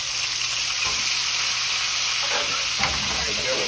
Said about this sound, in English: we're going to put it in the skillet here